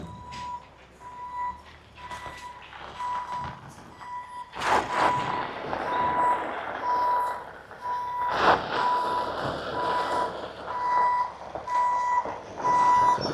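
Small 5-yard dump truck reversing near an excavator job on a rutted driveway: a regular, evenly spaced backup beep repeats throughout, moderately loud over engine rumble and a few louder mechanical clunks.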